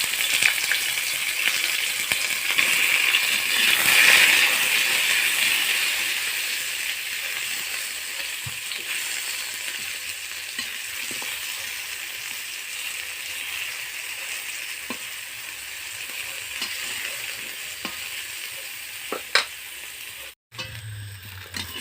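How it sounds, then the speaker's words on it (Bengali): Slices of pointed gourd fry in a pan, giving a steady close sizzle that lasts throughout with occasional faint clicks, then a brief dropout near the end. No one speaks. "আলু ভাজা হয়ে গেছে, এবার করব পটল ভাজা।"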